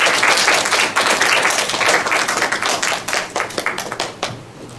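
Audience at a microfinance conference welcoming panelists with applause: loud, close clapping that starts full and thins into fewer, distinct individual claps before fading out.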